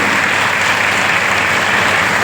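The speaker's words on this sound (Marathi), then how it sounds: "आपण सर्वजण जोरदार टाळ्या वाजवून महाराजांचं आपण स्वागत करतो." A temple audience at a Shiv Mahapuran katha gives sustained, dense applause, loud and steady throughout with no pauses and no talking.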